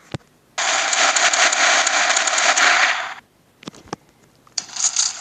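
Rounds are fired in bursts, with a sharp single crack, then a dense rapid crackling volley lasting about two and a half seconds, a few more isolated bangs, and another short rattling burst at the end.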